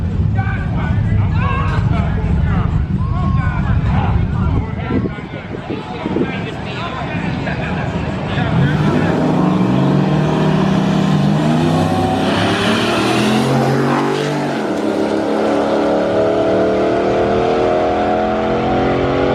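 Stock four-door 4WD Ram pickup with a Cummins diesel and six-speed manual drag racing, its loud engine roaring and climbing through the gears, with crowd chatter around the strip.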